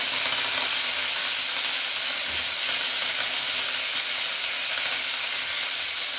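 Curry leaves crackle and sizzle in hot oil during tempering, giving a dense, constant hiss that stays close and even throughout, with no voices.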